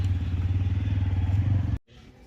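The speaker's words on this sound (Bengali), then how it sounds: "এই যে ওরা 3জন বাইক পার্ক করছে" Three motorbikes being parked outside a restaurant on a winter road trip, a loud close engine idle with steady chugging and a little clatter, cutting out abruptly near the end and leaving quiet background.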